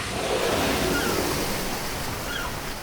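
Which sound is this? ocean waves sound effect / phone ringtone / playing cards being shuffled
ocean waves sound effect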